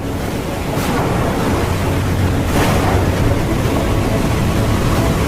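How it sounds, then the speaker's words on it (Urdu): Rough sea with high waves surges around a boat in a steady, loud, broadband wash, with gusty wind noise across the microphone and no voices. "اچانک اونچی اونچی لہریں اٹھنے لگیں"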